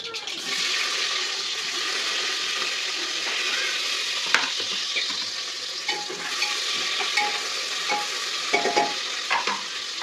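Chopped onion hits hot fat already crackling with cumin and mustard seeds for khichdi, giving a loud, continuous, close sizzle with occasional stirring clicks and scrapes, without speech.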